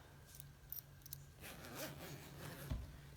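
A sleeping bag zipper is pulled along in short, soft rasping strokes with both zipper pulls held, quiet and close, ending in a small clunk.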